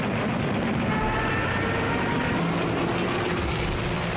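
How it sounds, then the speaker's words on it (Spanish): British WWII fighter planes fly overhead in a continuous loud, dense engine roar that holds steady throughout with no voices over it. "La aviación británica incorpora todos sus aviones de caza a la batalla para ahuyentar a la Luftwaffe."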